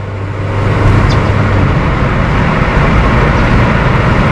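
A Honda Civic 1.8L with a CVT accelerates at half throttle, giving a steady, loud, even engine and road roar from inside the car with no speech.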